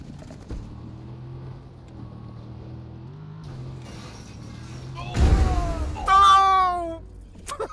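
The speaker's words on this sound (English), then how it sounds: "It's like a dying cat when it reverses." Vehicle reversing in the video game Watch Dogs 2, a strained, wailing whine like a dying cat, rising sharply and warbling loudly after a low engine drone and a sudden clunk.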